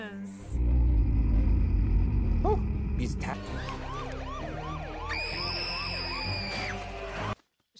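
Police car siren in the animated Angry Birds film, a loud wailing whoop that rises and falls repeatedly over a noisy cartoon soundtrack, joined by a shrill steady whistle-like tone before cutting off abruptly.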